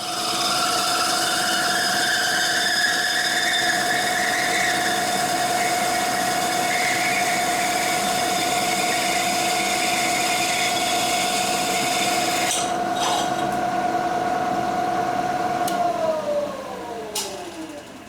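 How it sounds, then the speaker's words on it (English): A steady high-pitched machine whine of a 3/4 inch annular cutter drilling a hole in metal runs continuously, with sharp metallic clinks late, then the pitch drops as it spins down. "I'm going to use a 3/4 inch annular cutter to cut a 3/4 inch hole"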